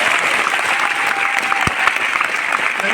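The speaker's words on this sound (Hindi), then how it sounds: "मैं चाहूंगा अपने लिए एक बार जोरदार तालियां बजाएं।" Seminar audience bursting into loud, dense applause, a sustained wash of clapping from a packed room with one brief low thump partway through, no speech over it.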